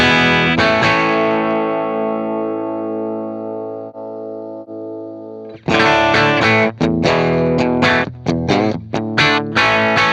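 An electric guitar through a Divided by 13 amp and 4x12 cabinet rings out a long sustained distorted chord, then hits a series of choppy, punchy distorted chords.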